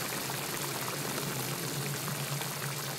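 Water poured into a pan of chicken kadai cooking on the stove, a steady hissing and bubbling wash of sound at low level, continuous throughout with no voices.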